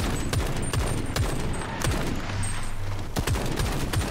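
Automatic gunfire in the shooter game Shatterline, rapid bursts of shots with sharp repeated cracks and a brief sustained tone, loud and close throughout.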